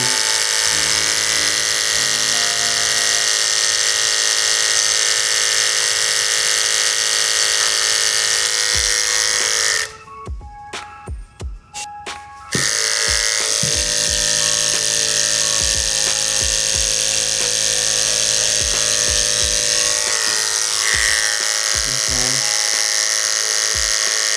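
Electric hair clipper with a blade being tested on string, a loud close buzzing drone that stops for about three seconds with small clicks, then resumes steadily.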